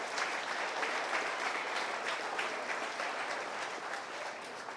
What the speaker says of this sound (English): Let's give all these exhibitors in the ring a round of applause